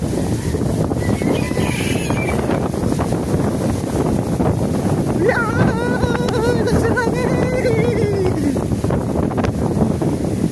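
Strong wind blows hard and without pause into the microphone, producing a constant buffeting rumble, while a voice speaks partway through.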